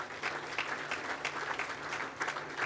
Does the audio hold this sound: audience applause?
yes